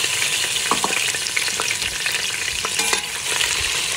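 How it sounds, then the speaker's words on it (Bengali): Ginger, garlic and garam masala fry in a pan for a beef and cabbage curry while being stirred, giving a steady, close crackling sizzle broken by light scrapes and taps of the spoon, with no talking. "একটু নাড়াচাড়া করে নিচ্ছি, ওটা একটু ব্রাউন হয়ে গেলে আমি দিয়ে দেবো।"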